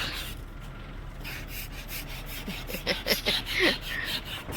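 A staircase is scraped by hand, producing a faint steady rasping that turns into a quick series of louder scrape strokes toward the end.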